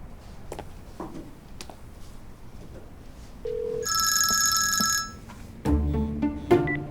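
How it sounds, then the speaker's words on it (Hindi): A telephone rings in an indoor drama scene, a bright electronic trill that sounds for about a second amid quiet room noise, then louder thuds and clatter follow as the call is picked up. "मैं फिर भी एक बार अप्पू को फोन करके कंफर्म कर लेती हूँ।"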